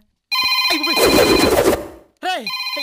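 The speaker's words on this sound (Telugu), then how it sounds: "ఎవడో వచ్చి ఫోన్ తీయండి రా" A telephone rings loudly nearby, its bell trilling in bursts, partly masked by a noisy clatter before a brief pause and another ring.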